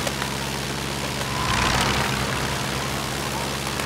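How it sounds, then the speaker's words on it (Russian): A motor runs in a steady, loud, low drone throughout, swelling slightly midway, with no speech over it. "Гавот, выключите на минуту мотор."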